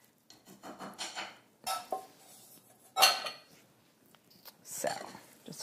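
Beaten egg whites folded into waffle batter in a bowl, soft scraping and clinking of a utensil against the bowl in slow irregular strokes, close and fairly quiet, with a few sharper knocks.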